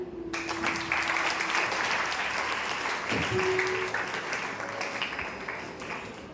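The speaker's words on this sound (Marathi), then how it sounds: "सर्व स्पर्धकांसाठी जोरदार टाळ्या." Strong applause from an audience after contestants in a Marathi-language school debate, a dense sustained clapping that swells and then gradually thins out, with faint voices underneath.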